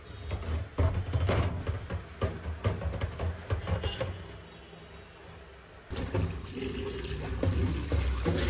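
Water runs from a tap while dishes and utensils are washed in a home kitchen, a steady splashing stream broken by clatters and knocks, with a brief lull before the flow picks up again.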